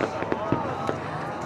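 Fireworks burst in the sky as scattered soft pops and crackles, heard under a continuous bed of people's voices and ambient noise.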